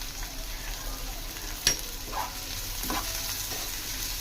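Sliced onion and green chillies fry in a pan for a drumstick egg curry, a steady soft sizzle running throughout with a few brief stirring scrapes and a sharp clink partway through; no talking.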